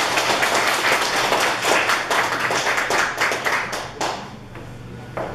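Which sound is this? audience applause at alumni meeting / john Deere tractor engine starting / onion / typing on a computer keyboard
audience applause at alumni meeting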